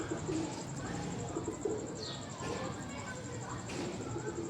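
Pigeons cooing softly among Zaak Cheena and Hary kabutar birds, with low repeated coos over a continuous background of other birds and rustling.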